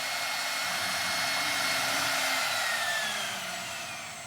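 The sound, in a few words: CNC router compression bit cutting plywood full depth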